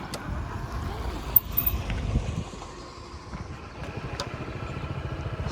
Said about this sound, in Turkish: Motorla çıktık bugün artık